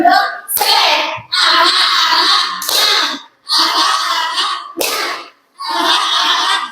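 A classroom group performs a rhythmic clap chant, with bursts of hand clapping and children's voices broken by short, sharp pauses in a repeating pattern, loud and close.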